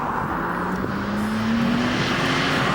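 A Porsche 996 Carrera drives on the road, its engine a steady droning hum with a slowly rising pitch as it pulls along, heard from close by with no talk.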